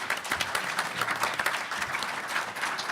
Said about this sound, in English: let's give our wonderful panelists a round of applause